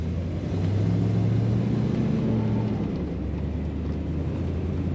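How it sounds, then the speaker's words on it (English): A 1971 Chevrolet Corvette 454 LS5 coupe drives along, its exhaust a steady, moderately loud low rumble that swells slightly and then holds an even drone. "possibly close to a factory sound for the exhaust coming out of this car"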